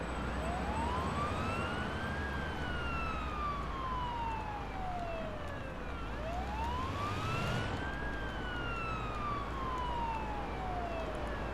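Wailing ambulance siren from the Ambulance Life: Paramedic Simulator game, two long slow rising-and-falling sweeps over a steady engine rumble, loud and continuous with no talk.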